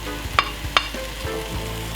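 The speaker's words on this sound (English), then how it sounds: "we're going to add in the chicken drums. Stir that in" Chicken drumsticks are stirred into a hot pot of Malaysian curry, frying with a close, steady sizzle broken by a couple of sharp scraping clinks from the utensil.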